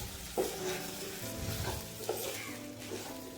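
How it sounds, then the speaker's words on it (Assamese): Rice is stirred and fried with chicken in a pot, making a soft, continuous sizzle. A spoon scrapes and knocks now and then, and the whole sound stays fairly faint and close. "এতিয়া মই চাউলখিনি মাংসৰ লগত ভালদৰে ভাজি ল'ম"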